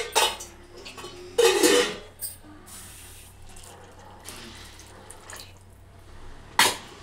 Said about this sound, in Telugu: కొన్ని వాటర్ పోస్తాను నేను